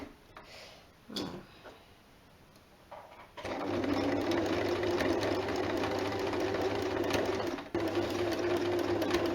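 A domestic sewing machine stitches jersey fabric along a seam guide, running in a steady, fast mechanical whir after a few hesitant starts and stops, close and continuous with one brief pause.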